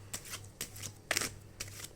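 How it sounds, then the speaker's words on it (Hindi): Tarot cards being shuffled by hand in repeated soft riffling bursts, about four close papery flurries spaced across a quiet room. "जब तक मैं शफल करती हूँ"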